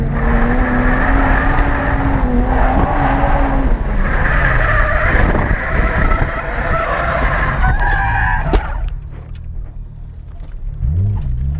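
A car engine revs hard and steadily for several seconds on a mountain-pass style track at Ebisu Circuit, loud and close, with tires scrubbing, before the engine note suddenly drops away as the car stalls.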